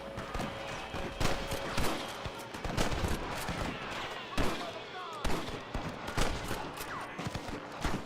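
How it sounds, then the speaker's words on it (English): Rapid gunfire from a Red Dead Redemption shootout with rustlers, volleys of shots cracking repeatedly throughout, mixed with game noise and voices talking over it. "Are you gonna shoot any of these rustlers, boy? I just did!"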